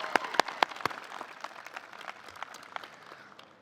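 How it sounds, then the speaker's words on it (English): Audience applause at a university commencement ceremony for the UAlbany class of 2024: a few sharp, close claps stand out at first, then thin, scattered clapping tapers off quietly. "Another round of applause for all of our awardees and honorary degree recipients"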